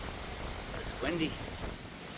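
Wind blowing across an open mountain trail on the Appalachian Trail near Center Point Knob, a steady broadband rush with a slight gust in the middle.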